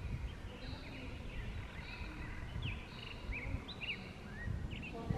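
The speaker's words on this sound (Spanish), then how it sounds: "Se respira una tranquilidad que solamente escucho del aire, los pájaros." Birds chirp and trill in scattered short calls across a quiet valley at the Cacaxtla archaeological site, faint against a low wind rumble, with no one speaking.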